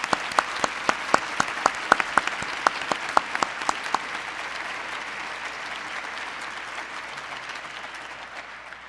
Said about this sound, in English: Let's give this year's financial supporters a big round of applause.